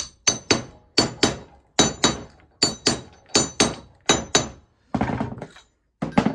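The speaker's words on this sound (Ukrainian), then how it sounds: "Після цього я вже цим сверлом постукуючи я так." A 21 mm drill bit is tapped into corrugated pipe, giving a steady run of sharp, hard knocks, about two per second, close and loud, followed by a brief scraping rustle and one more knock.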